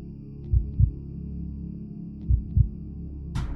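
A slow, low heartbeat from the horror game RHOME gives two paired thuds over a steady ambient hum and ends in a brief bright noise burst. No one speaks.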